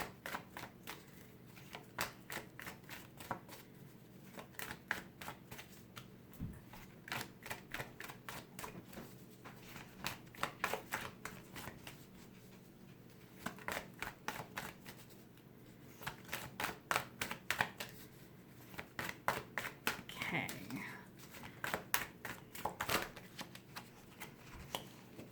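A deck of medicine cards is shuffled and cut by hand, producing quick riffling bursts of crisp card flicks in repeated clusters, close and fairly quiet, with no talking.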